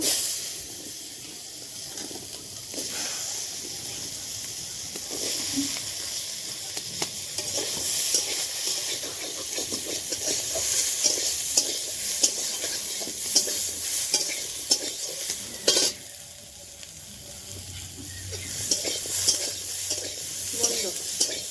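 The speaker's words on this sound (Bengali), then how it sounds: "এবার ওই তেলের মধ্যে আমি আলুগুলো ভেজে নেব" Potatoes fry in hot oil with a strong, continuous sizzling hiss up close, broken by repeated stirring scrapes and clicks of the utensil, with no talking.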